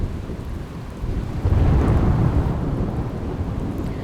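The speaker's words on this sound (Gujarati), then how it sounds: "ડભોઈ શહેરના વિવિધ વિસ્તારમાં વરસાદ।" Heavy monsoon rain pouring down in Dabhoi, Gujarat, a dense steady roar with a low rumble of thunder swelling in the middle.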